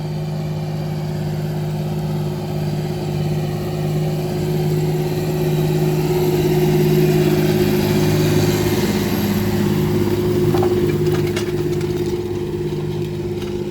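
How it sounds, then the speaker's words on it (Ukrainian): A vehicle engine runs steadily at close range during a grain harvest in the fields, a loud, even hum that stays constant for the whole stretch. Nobody speaks. "Машина."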